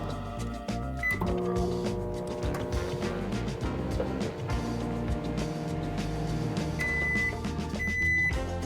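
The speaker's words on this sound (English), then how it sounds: "So now you wanna cook your salmon in the microwave for 3 to 5 minutes and let it rest for a minute." A microwave oven cooking salmon gives a steady, close electrical hum, with a few short high beeps sounding near the start and again toward the end.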